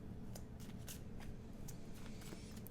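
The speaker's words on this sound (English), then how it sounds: "as I'm shuffling the deck, the Queen of Pentacles is popping out." A deck of tarot cards is shuffled in quick, soft riffling bursts, close and quiet, repeating steadily over a low background hum without talk.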